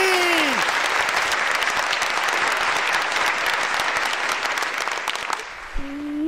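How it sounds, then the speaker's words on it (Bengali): Applause from an audience at a staged performance, a dense, even clapping that holds for several seconds, then thins and fades, with a brief tone at the start and another at the end. "হাততালি হাততালি"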